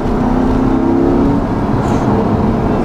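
A 2020 Chevrolet Corvette Stingray 1LT convertible engine pulls hard in third gear with track mode on, a loud, close, continuous throaty roar that holds steady and then eases slightly as throttle is cut.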